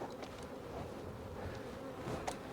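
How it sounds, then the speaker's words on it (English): Bees swarming over a full honey super pulled from a hive, giving a steady, dense buzz close by with occasional brief louder passes, no voices. "Now there's a super full of bees."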